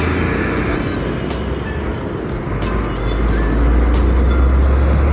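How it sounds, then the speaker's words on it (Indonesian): Harapan Jaya bus pulling onto a toll road on an afternoon from the Surabaya direction, its steady engine rumble and tyre roar building slightly louder toward the end amid ongoing roadside traffic noise. "Ada bus Harapan Jaya"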